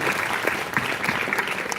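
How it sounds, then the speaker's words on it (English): A quiz audience applauds, steady clapping from many hands at moderate distance, brief and even throughout. "Double applause for 2 correct answers."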